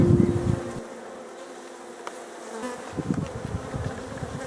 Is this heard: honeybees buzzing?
yes